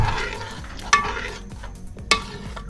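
Yogurt is stirred into chicken biryani masala in a pot, heard as a low sizzle with two distinct scraping strokes of a spoon against the metal, close and clear.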